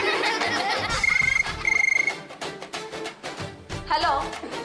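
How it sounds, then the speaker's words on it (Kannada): A telephone ringtone trills in two short electronic bursts over a busy background of music and voices in a Kannada TV serial scene, where the phone keeps ringing one call after another. "ಗಂಡು ಕಲೇಶ್ವರ, ಫೋನ್ ಮೇಲೆ ಫೋನು ಬರ್ತಾ ಇದೆಯಲ್ರಿ"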